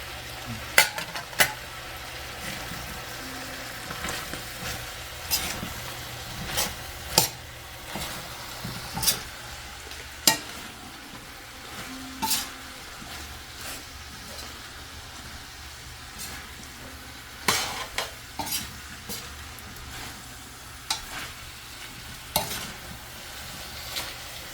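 Vegetables with cauliflower stir-fried in a pan, a steady close sizzle broken by repeated sharp scrapes and clanks of a utensil against the metal, with no talk.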